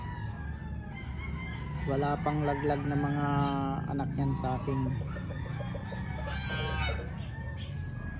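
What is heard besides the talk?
rooster crowing and clucking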